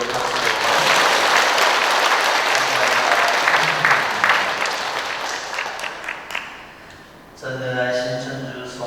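A church congregation at a Sunday Mass applauds their priest, dense sustained clapping filling the first seven seconds before fading, then a few voices begin chanting a prayer together.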